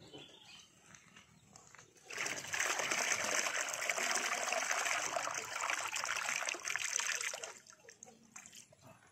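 Water pours and splashes steadily for several seconds as goldfish fry are released into a pond, a continuous rushing gush that starts abruptly and stops after about five seconds.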